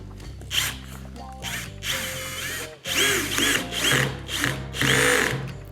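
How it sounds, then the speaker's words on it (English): A BAHCO compact drill/driver drives a screw in several whirring bursts with brief pauses, ending at the low clutch setting in ratcheting clicks as the clutch slips; close and fairly loud, with no voices. "You take a screw and you screw it until you hear a click."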